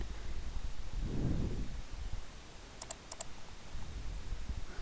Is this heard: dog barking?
no